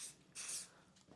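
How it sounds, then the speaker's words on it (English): CA glue activator is sprayed onto plywood corners in two quick hissing bursts, faint and close, with a short pause between them. "Spray some activator on my corners of my"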